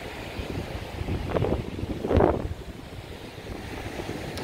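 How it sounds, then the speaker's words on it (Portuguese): Strong seaside wind buffets the microphone on a beach at St. Petersburg, Florida, in the late afternoon, a steady rumble that swells into a brief louder gust near the middle. "muito vento."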